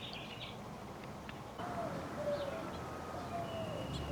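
Faint finch calls outdoors in New Mexico, USA, a few thin chirps over a steady broadband background hiss, distant and sparse.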